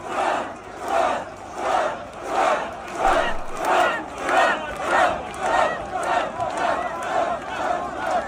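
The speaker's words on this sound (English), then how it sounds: "you got a massive crowd in London a few days ago screaming out Trump" A massive street crowd in London chants in rhythmic, repeated bursts, roughly one shout per beat, loud and rolling, with the mass of voices rising and falling evenly throughout.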